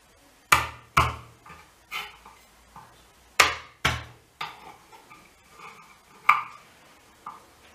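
A kitchen knife chops four garlic cloves on a board, a handful of sharp, irregular knocks with short pauses between them, close and clear with no talking.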